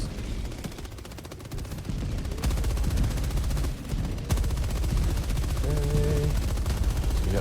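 Rapid automatic gunfire in the video game Helldivers 2, dense continuous bursts of shots with a heavy low thump, loud throughout, with brief electronic game tones late on.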